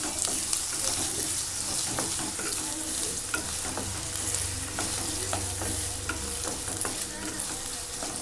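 Two large potatoes cut into big chunks sauté in a pan, a steady sizzle with scraping stir strokes throughout, close and continuous, no talking.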